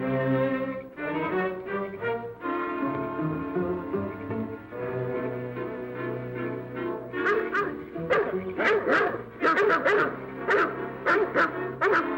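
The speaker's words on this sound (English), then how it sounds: "Hear those dogs?" Several dogs bark and yip in a 1939 Chinatown mystery scene, the calls building from scattered yelps into a louder, rapid burst of overlapping barks toward the end, with a steady tonal background beneath.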